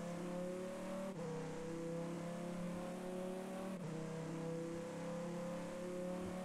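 Car in the Roblox game ERLC speeding down Riverside Drive, a continuous steady engine drone with two brief dips as it shifts, no talking.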